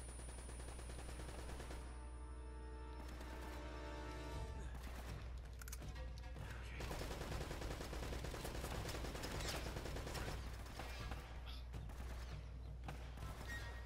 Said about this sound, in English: Heavy machine gun, really?